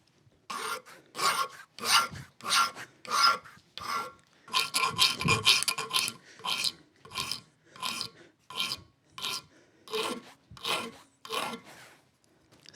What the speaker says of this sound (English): I can hold that in the vise and I can file that easily